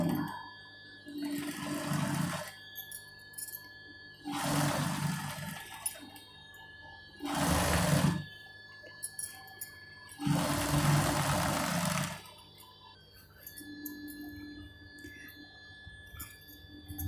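Sewing machine stitching a second line beside the first along the hem of an inner skirt being shortened, running in four separate bursts of about two seconds each, with quiet pauses between them.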